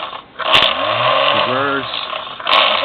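Small IMP horseshoe-style electric motor in a wooden toy boat, bench-tested while switched between forward and reverse, whirring steadily with short clicks from the touchy switch and a brief pitch shift in the middle.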